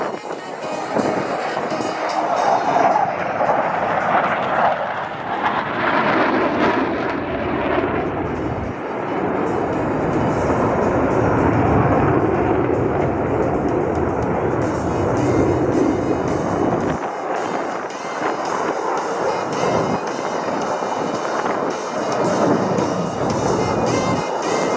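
F-18 Hornet jets performing a demo at the New Orleans Airshow, a loud, sustained roar that swells and shifts throughout, with a surge midway, as if the jets pass overhead at close range.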